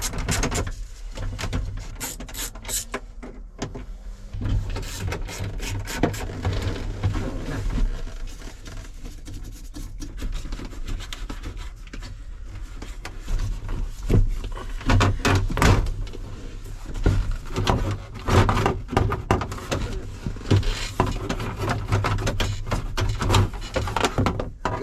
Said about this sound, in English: Right, so the first thing to do is remove this panel here.